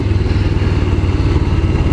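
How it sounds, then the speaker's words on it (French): A Royal Enfield Scram 411 motorcycle engine runs with a steady, thumping low rumble, loud and close, with no speech over it. "Ça fait vraiment une moto ancienne quoi"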